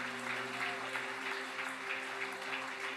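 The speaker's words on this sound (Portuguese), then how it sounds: "E se você puder dar a tua melhor salva de palmas a Jesus" A church congregation applauds during a sermon, a soft, steady wash of many hands clapping at some distance over a sustained low musical hum.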